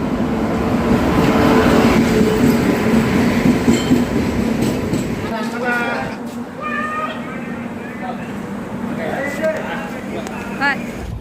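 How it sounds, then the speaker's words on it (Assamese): An electric train running from Kokrajhar to Delhi gives a loud, steady rumble that eases after about five seconds, with voices and other sounds rising over the quieter onboard noise. "আমি ইলেক্ট্ৰিক ট্ৰেইনেৰে প্ৰথম এইবাৰ কোকৰাঝাৰৰ পৰা দিল্লীলৈ"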